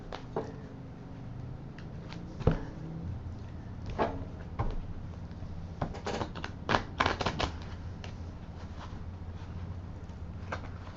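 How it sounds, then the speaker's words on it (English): Cheap, thin tarot cards shuffled by hand, giving soft papery riffles and scattered slaps and taps in irregular bursts over a low steady hum, close and fairly quiet with no talking. "These cards are so cheap and thin, they really don't shuffle well."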